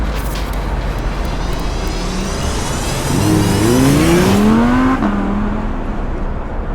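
A 2008 Renault Mégane 2 RS engine revs up to a rising whine and then settles back down, all over a steady wash of background noise in the rain.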